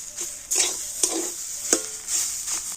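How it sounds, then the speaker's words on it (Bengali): An egg dish being stirred in a pan with roasted spice mix and chopped coriander: a soft sizzle broken by several distinct scraping strokes of a spoon or spatula against the pan. "ভাজা মশলা ধনেপাতা দিয়ে তো আবার একটু ভালো করে নাড়াচাড়া করে নেব।"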